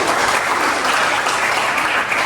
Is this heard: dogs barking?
no